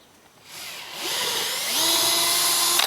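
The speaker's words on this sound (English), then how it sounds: "drill these holes out bigger, 5/16, just so I have some wiggle room" A power drill whirs steadily and loudly, its pitch rising as it bites into material enlarging holes to 5/16 inch, then winds down abruptly at the end.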